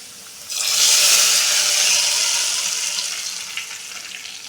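Hot tempering poured into tamarind-leaf dal sets off a loud, steady sizzle that bursts in abruptly and then slowly fades over several seconds, with no talking.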